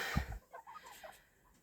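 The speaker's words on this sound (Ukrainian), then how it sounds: "курочок і півничків" Chickens and roosters on a farm clucking softly, a short low burst followed by a few scattered, fairly faint clucks that fade out.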